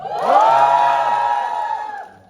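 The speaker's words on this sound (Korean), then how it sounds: "뒤태가 나오자마자 여러분들은 큰 소리로 환호성을 질러주시면 감사하겠습니다" A cinema audience at a Korean film stage greeting lets out a loud, rising cheer of many voices, whoops and shouts swelling for about two seconds and then trailing off.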